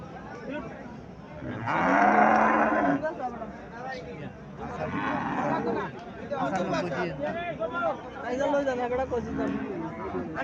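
A Haryana cow and a Sahiwal calf low in a few long, loud moos at a cattle market in Cumilla, with people chattering around them.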